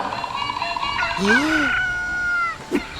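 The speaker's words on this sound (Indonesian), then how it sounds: "ayam berkokok" A rooster crows loudly and close in one long rising and falling call, with a brief voice before it and a short cluck-like sound just after.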